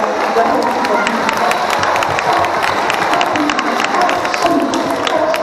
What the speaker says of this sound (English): Give it a great big round of applause.